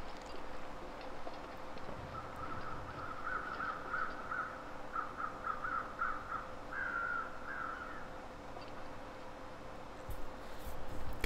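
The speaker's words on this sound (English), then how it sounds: "That's my crows." Crows caw in the survival video game The Long Dark: a faint, distant run of repeated caws in steady groups over a soft background hiss.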